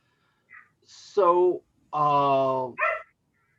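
A dog barks and whimpers in a short run of yips and howling barks, wanting to be let inside, heard fairly close in a quiet room with no one talking.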